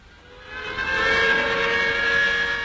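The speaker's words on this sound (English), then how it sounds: "Now, sirens announce the end of a working shift in the valley." Sirens at the Bhakra dam project sound the end of a working shift in the valley, a steady wailing tone that swells within the first second and then holds loud and unbroken, with no talking.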